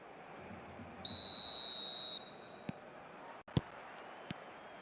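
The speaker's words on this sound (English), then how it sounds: "There's the whistle then to start the second half." A referee's whistle signals the start of the second half in the eFootball 2025 video game: one long, steady, shrill blast lasting about a second over low crowd ambience, followed by a few sharp clicks.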